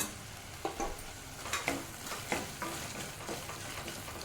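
Fried tomato is stirred with ground coconut powder in a pan for egg curry, a faint, quiet scraping and shuffling with soft spoon taps at irregular intervals and no talk.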